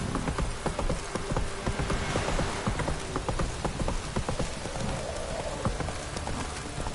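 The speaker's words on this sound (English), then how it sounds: "This downpour's a bastard, it is." A heavy downpour in the video game The Witcher 3 pours down as a dense, steady hiss, with clip-clopping horse hooves thudding along beneath it.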